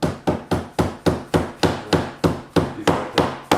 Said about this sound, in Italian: martelli fai con attenzione che non rompi via questo.